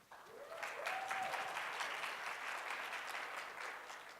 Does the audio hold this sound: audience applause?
yes